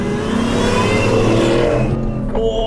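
A Shelby F-150 Super Snake pickup truck accelerates on a dirt test drive, its engine loud and close, rising in a steady roar for about two seconds before easing off.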